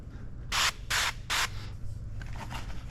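Three short, close hissing sprays from a spray bottle apply window tint solution to a 2024 Jeep Wrangler rear window, followed by fainter wiping and handling sounds.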